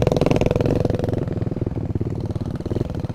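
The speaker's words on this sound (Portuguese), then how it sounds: "A motinha tá em segunda, tá se peidando tudo ali." A mini motorbike rides a dirt trail in second gear, its engine buzzing loud and close with a steady, rough, sputtering pulse throughout.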